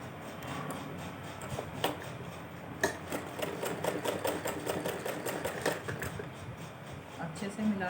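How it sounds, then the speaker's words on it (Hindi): A sewing machine stitches along folded cloth at home, its needle ticking in short irregular bursts that sit under a steady background hum, close and moderately loud. "इसे, इस कपड़े को ऐसे मोड़ेंगे, ये जो कपड़ा है और ऐसे सिलाई लगाएंगे इस पर।"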